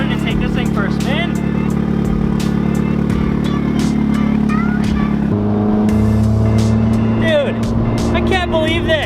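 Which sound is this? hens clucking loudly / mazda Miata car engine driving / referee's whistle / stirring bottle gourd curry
mazda Miata car engine driving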